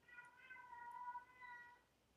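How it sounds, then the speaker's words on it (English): A house cat, calling for someone it misses, gives a drawn-out meow indoors, fairly faint and distant, with quiet room tone around it. "hear the cat?"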